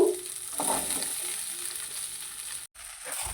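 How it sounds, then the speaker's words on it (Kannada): Okra frying in oil in a hot pan, a steady close sizzle with brief stirring scrapes near the start and a short silent break near the end. "ಈಗ ಒಂದು ಕಾದಿರುವ ಬಾಣಲೆಗೆ ಸ್ವಲ್ಪ ಎಣ್ಣೆ ಹಾಕಿ ಈ ಎಲ್ಲ ಬೆಂಡೆಕಾಯಿನ ಹಾಕಿ ನಾವು ಚೆನ್ನಾಗಿ ಫ್ರೈ ಮಾಡ್ಕೋಬೇಕು"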